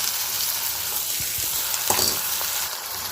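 Washed lentils and green chilies sauté in a pan with a loud, continuous sizzle, broken by a couple of stirring scrapes and taps, no talking.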